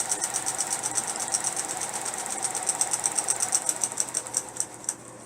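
Computerized quilting machine stitching a triangle design, a steady fast rhythmic needle chatter with a faint whirring motor and regular ticking, close and moderately quiet.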